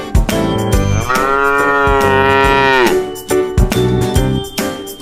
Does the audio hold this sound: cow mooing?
yes